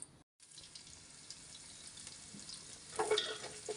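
Cumin and onion fry in oil in a cooking pot with a faint, steady sizzle after a brief dropout. A few light clinks and stirring sounds come near the end, and there is no talk.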